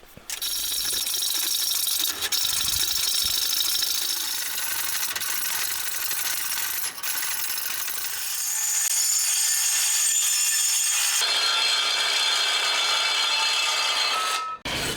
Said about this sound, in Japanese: それでは湯道を切っていきますが、今回は数をたくさんつけたので大変です。